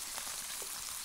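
Meat frying in wild boar fat outdoors gives a soft, steady sizzle with faint scattered pops, close and fairly quiet, with no talking.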